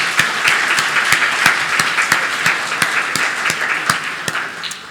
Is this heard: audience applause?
yes